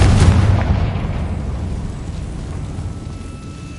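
A Confringo spell explodes in Hogwarts Legacy, a loud, close boom that bursts at once and then rumbles away in a long, fading tail.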